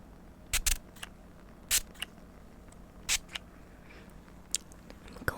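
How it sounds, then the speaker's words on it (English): Spray bottle filled with water misting onto hair during a soft-spoken haircut, several short hissing spritzes spaced irregularly, close and crisp against a quiet background. "I'm just going to use my spray bottle. It's just filled with water, and I'm going to lightly coat your hair."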